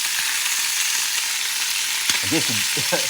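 Chicken wings sizzle steadily in a hot pan for a Puerto Rican wing stew, a continuous close fry with a brief voice-like murmur near the end.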